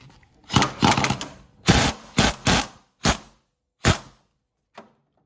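Work on the passenger-side top motor mount bolt of a GMC Envoy: a string of short, sharp tool bursts close to the microphone, coming in uneven pulses and then trailing off, with no speech.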